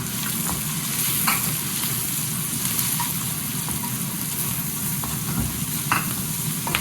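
Garlic, ginger and onion fry in hot oil for a chicken curry, with a loud, steady close-up sizzle and crackle broken by sharp spattering pops throughout.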